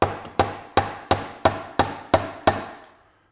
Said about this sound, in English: Now I can move it up and down with hammer taps.